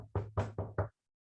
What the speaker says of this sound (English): Sri Nityananda Prabhu would go house to house and he would knock at the door.